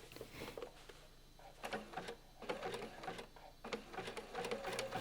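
A sewing machine topstitching a jeans fly guard, faint close bursts of rapid needle chatter in short runs separated by brief pauses.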